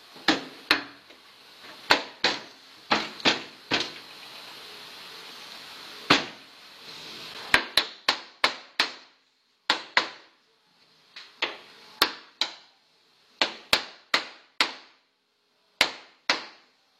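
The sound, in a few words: hammering sheet metal door panel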